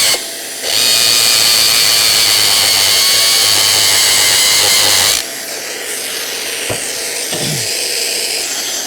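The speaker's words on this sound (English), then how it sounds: "when you're working with a drill like this" A loud power drill runs steadily into concrete for about four seconds, then cuts off, leaving a quieter hum of dust extraction with a few faint clicks.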